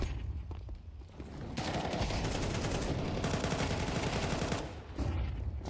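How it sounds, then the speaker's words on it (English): Rapid bursts of automatic gunfire from a Counter-Strike match during a CCT South America online esports series, loud dense volleys broken by brief pauses, with no talk over them. "they're just gonna shoot right through the bend and get that kill"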